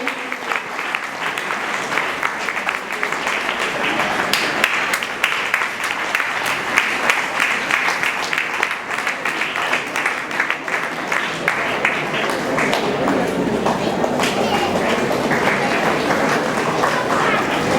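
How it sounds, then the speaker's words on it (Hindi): Dense, steady applause fills an inauguration hall for the foundation, sustained and loud from start to finish with a few voices mixed beneath the clapping crowd. "जोरदार तालियां उनके लिए।"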